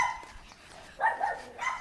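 A dog out on an early morning walk gives a few short, close barks and yips, alone with no talking.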